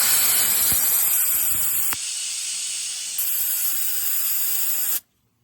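A cheap sandblaster sprays abrasive onto welds on a patina bullnose truck bed in one continuous loud hiss that shifts in pressure partway through, then cuts off abruptly, with no talk.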